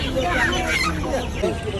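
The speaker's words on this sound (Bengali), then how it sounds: "দেশি মুরগি এখানে অনেক পরিমাণ দেশি মুরগি আছে।" Native chickens cluck and squawk in overlapping calls at a busy duck and chicken market in Tongi Bazar, dense and close, with a crowd murmuring in the background.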